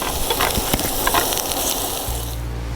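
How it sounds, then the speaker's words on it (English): Prawns and chorizo sizzle on an electric grill powered by a portable dual battery box, a loud, steady frying hiss with occasional pops and crackles throughout, no voices. "We had the grill running for a total of 10 minutes, using a total of 17 amps to cook the prawns and chorizo."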